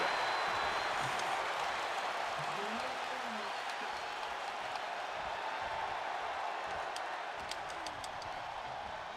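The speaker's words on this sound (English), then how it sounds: "And this crowd is loving every second of it." Steady roar of a WWE wrestling arena crowd cheering and applauding, a dense continuous wash of noise with scattered claps and shouts throughout.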